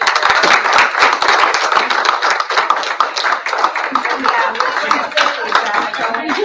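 Audience applause fills a school board trustees' meeting, a dense, steady patter of many hands clapping close by that runs unbroken from start to finish.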